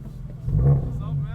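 A Toyota 86 sports car passing on the road, a low engine rumble swelling and fading, heard close from inside another moving car with speech over it.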